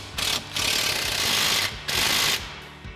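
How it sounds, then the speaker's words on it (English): Impact wrench driving a 15mm swivel socket extension to tighten a bolt on a Camaro SS coil-over suspension install, heard as two loud, close rattling bursts of hammering with a short pause between. "grab our 15mm swivel socket extension on our impact and go ahead and tighten that back"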